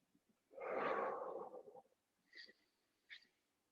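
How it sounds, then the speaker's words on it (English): One slow, deep breath is drawn in and pushed out during a rest break in a HIIT workout, heard close and breathy, then a few faint clicks follow. "Slow that breathing right down."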